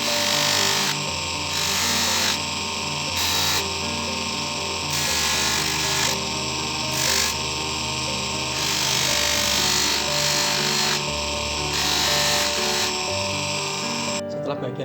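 A power tool polishes a handmade brass ring with a frangipani flower motif, giving a steady high whine with rhythmic surges in pitch as the piece is pressed and eased against it, close and loud throughout.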